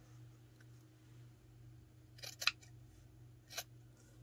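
Scissors snip through journal material in a few faint, quick cuts over a quiet room hum, with a soft click before them and a single snip about a second later.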